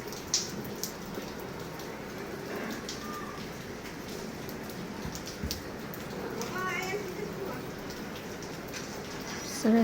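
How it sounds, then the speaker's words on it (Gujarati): Light drizzling rain falls in an outdoor setting, a soft steady hiss and patter throughout, with faint birds in the background. "ઝરમર ઝરમર ચાલુ છે"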